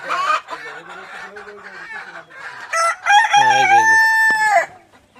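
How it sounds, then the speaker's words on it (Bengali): Several chickens cluck and squawk close by on a poultry farm in Shariatpur, Bangladesh, then a rooster lets out a loud, drawn-out crow near the end. "এই যে দেখেন কত বড় বড় মুরগি"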